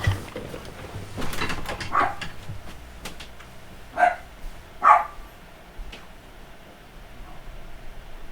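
A dog barks indoors in short, separate bursts, a few louder ones in the middle. The barks sound somewhat distant against a hiss, and no one speaks.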